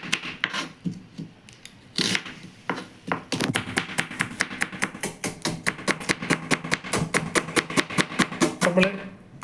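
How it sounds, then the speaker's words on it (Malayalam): Onions being chopped for kurma, a knife striking a cutting board in quick, steady repeated thuds that speed into a dense rhythmic run, with a few scattered knocks and shuffles at the start. "നമ്മൾ കുറുമയ്ക്കുള്ള ഉള്ളി വെട്ടി കൊടുക്കുകയാണ്."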